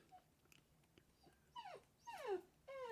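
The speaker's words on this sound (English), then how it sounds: "That's my little puppy, by the way. He's going to be trying to fall asleep, so he might make some noise." A little puppy settling down to sleep lets out three thin, high whimpers that slide downward, each one louder than the last, after some quiet rustling at the start.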